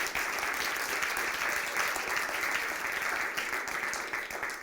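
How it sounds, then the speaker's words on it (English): A crowd claps in steady, dense applause that stays loud and continuous throughout, with no voices standing out. "You all can do a round of applause."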